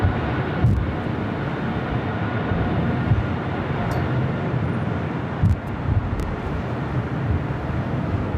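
British Airways jet accelerating down runway 25 right at LAX, a loud continuous broadband engine roar with wind buffeting the microphone, steady throughout.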